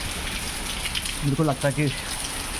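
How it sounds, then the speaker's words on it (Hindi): Heavy rain with hail pours down in Dehradun, a steady dense hiss that fills the whole clip, with someone speaking briefly over it. "और ये बारिश हो रही है।"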